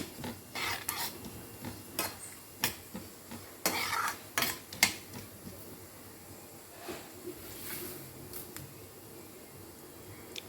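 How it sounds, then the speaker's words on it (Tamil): Fennel, cinnamon, cloves and cumin stirred in hot oil for chana masala, faint scattered clinks and scrapes of a utensil against the pan over a low background hiss, quiet and close. "எண்ணெய் காஞ்ச உடனே இந்த சோம்பு பட்டை கல்பாசி லவங்கம் ஜீரம் இதெல்லாம் போட்டு ஒரு இது பண்ணிடுங்க வணக்கிடுங்க"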